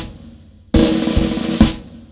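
Snare drum buzz strokes played as triplets, a sustained rolling buzz that starts abruptly partway in, runs about a second with a fresh accent near the end, then fades, heard close and alone without talk.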